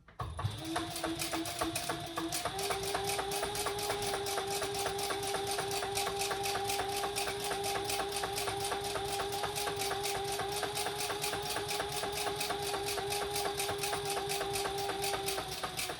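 A sewing machine runs at a steady, rapid, rhythmic pace while top stitching a slip pocket on a fabric crossbody bag. The motor hum is continuous and close, with no talking.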